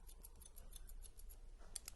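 Scissors snip through hair during a short crew-cut haircut, following the comb upward; a faint, quick, steady run of crisp snips.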